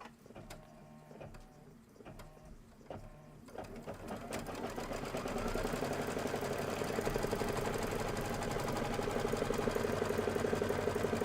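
A computerized embroidery machine stitches an outline on a Kimberbell Valentine pillow project: sparse needle taps at first, then a steady, rapid, close mechanical whir that builds and holds to the end, with no talking.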